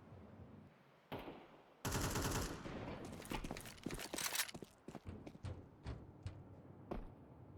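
Bursts of AK rifle fire in a Counter-Strike match on the Nuke map, fairly close, followed by a string of sharp single shots and footstep-like taps.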